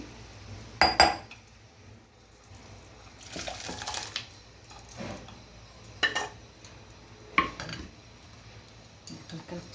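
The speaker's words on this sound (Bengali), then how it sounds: "গ্যাসটা অফ করে দিলাম, বলে ঢেলে যাচ্ছি।" Cooked sweet, hot and sour chole is transferred from the pan into a bowl, giving scattered metallic clinks and scrapes of utensil against cookware in short bursts with quiet gaps between them, and no speech.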